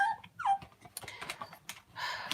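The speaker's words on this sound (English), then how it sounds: "Let this puppy out." A puppy wanting to be let out gives a brief, close, high whimpering whine, followed by faint scattered clicking like keyboard typing.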